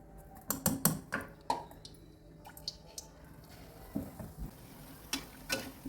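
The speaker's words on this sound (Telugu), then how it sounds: "ఈ శనగపిండిలో వేసి మనము ఆయిల్లో డీప్ ఫ్రై చేసుకున్నామండి." Aloo bondas coated in gram flour batter deep fry in hot oil, giving close, crackling pops and wet spatters in irregular bursts over a quieter sizzling bed, with no talking.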